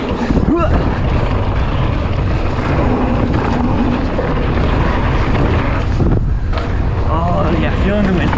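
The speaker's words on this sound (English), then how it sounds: "Oh yeah, feeling the wind." Wind roaring past a mountain biker racing downhill on the Bad Motor Scooter trail at Post Canyon, a loud constant buffeting rush battering the microphone throughout, with brief voice sounds.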